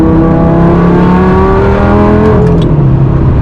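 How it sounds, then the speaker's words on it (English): A deep, throaty Lamborghini Gallardo exhaust drones and rises in pitch as the engine revs, loud and close, with no talking. "listen to my exhaust, it sounds so good"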